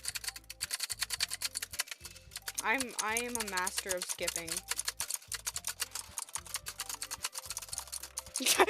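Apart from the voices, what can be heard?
loud computer keyboard clicking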